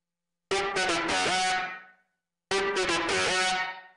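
Two bright synth notes, each sustained about a second before a long reverb tail, are played through an RV7000 reverb with extra reverb added. The notes sound loud and alone, separated by a brief silence.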